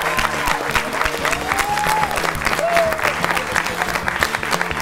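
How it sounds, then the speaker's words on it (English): A studio audience at a Taskmaster University event gives loud, sustained applause for the winner, with cheering voices and a few whistles mixed into the steady clapping. "give one last round of applause for the winner of Taskmaster University"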